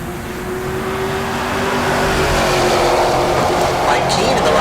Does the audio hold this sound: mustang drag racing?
yes